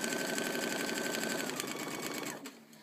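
Sewing machine stitching through half-square triangle paper with fabric, a steady rapid whirring hum held close and loud for over two seconds before it slows and stops.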